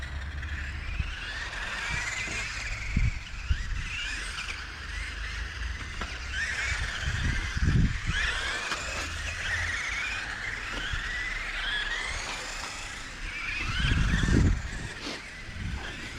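A Subotek 4x4 RC car runs laps on a circuit with a 600mAh battery, its motor whining steadily at mid distance with brief louder passes and bursts as it nears, birds calling in the background.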